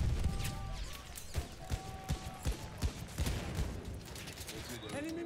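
Machine gun fire in the Battlefield video game, a string of sharp loud shots and bursts over a noisy battle bed, with voices talking over it.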